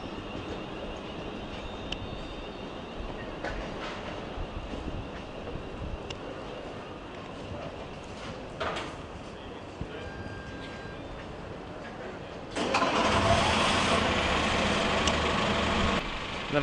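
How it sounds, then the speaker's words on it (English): Freight train rolling toward a Manchester railway station, a steady rumble that grows much louder and broader near the end, with no talk. "Another freight train seems to be approaching"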